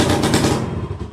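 A TVS XL 50 moped engine fires up close by in a short burst of rapid, sputtering putter, loud at first and then tapering slightly.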